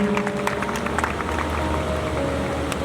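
Applause from a congregation at a church testimony service in Nandanpur: dense, steady clapping from many hands filling the whole stretch, with a low hum underneath.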